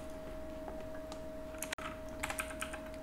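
Typing on a computer keyboard while entering code, a quiet steady run of light key clicks with a couple of slightly louder taps near the end, close up and alone.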